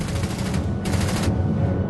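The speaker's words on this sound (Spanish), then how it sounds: "La MG-42 es probablemente la mejor ametralladora de la Segunda Guerra Mundial." A German World War II MG-42 machine gun fires one continuous, very rapid burst, loud and dense from start to finish, with no voices.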